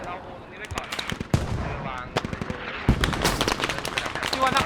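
Rapid bursts of gunfire in the military shooter game Squad, some single shots and some quick automatic volleys, with a voice talking over the shooting.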